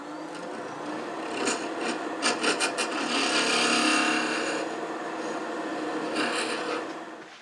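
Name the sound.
hand drill boring into wood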